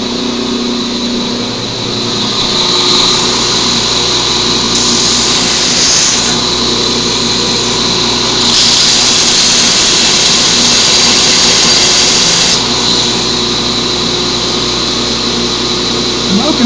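A grinder steadily whines while shaping stainless steel tubing pins in a knife handle, throwing sparks. The tone is loud, close and continuous, with intensity swelling in stretches as the work presses harder.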